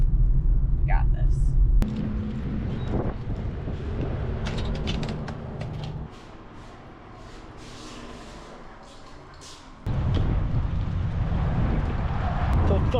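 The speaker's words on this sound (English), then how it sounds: "The thunders are rumbling." Low thunder rumbles through a rainy stretch on a drive north in a van, a deep continuous roll that swells and fades under road and engine noise, with a voice speaking now and then.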